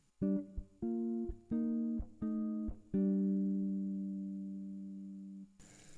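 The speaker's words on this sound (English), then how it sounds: "if we remove the roots, you can still hear the chord progression." Clean jazz guitar chords played without root notes strike in a steady sequence, each short and sparse, ending on a longer chord that rings and fades; no voices.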